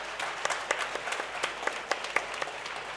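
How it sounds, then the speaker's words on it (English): An audience claps steadily through an inauguration ceremony for a student leadership council batch, a continuous patter of many hands with a few sharper, closer claps standing out. "So can we again hear a big round of applause?"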